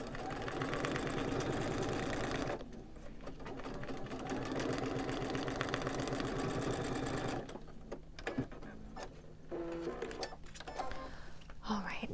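A sewing machine stitches a quilt block in long, steady runs of fast mechanical whirring, stopping briefly and then starting again, with someone speaking at times between the runs.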